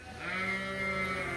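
A single sheep lets out one sustained, wavering bleat, close and clear, alone in a barn with hay and alfalfa.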